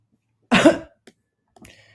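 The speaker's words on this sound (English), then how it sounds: "Oh my God, this cough." A single harsh cough, loud and close, followed by a softer throat sound after a short pause.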